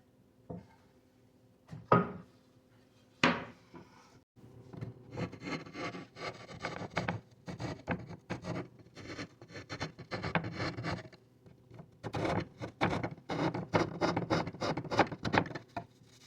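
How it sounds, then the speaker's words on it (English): A rasp files down the sides of a wooden tenon for a side table top, with a few sharp knocks at first, then bursts of quick close rasping strokes, paused midway and resumed. "we're going to need to get out the rasp and file down the sides"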